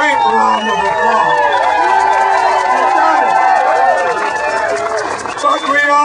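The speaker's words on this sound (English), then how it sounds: "Give yourselves a great round of applause." A large rally crowd roars with cheers and applause after a congressional speech, with voices shouting and whooping close and loud throughout.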